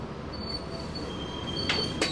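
The Kutojaya Selatan train rumbles past close by in Indonesia, a broad steady roar with a thin metallic squeal from the wheels running through it.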